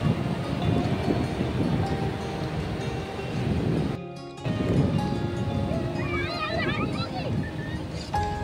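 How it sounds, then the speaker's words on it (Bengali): Rough, churning sea surf at Mandarmani beach roars steadily as broadband noise, mixed with heavy wind buffeting the microphone, a brief dropout near the middle, and faint bird chirps later on. "সমুদ্র এখন এতটাই উত্তাল যে আমরা এখন স্নান করতে পারবো না"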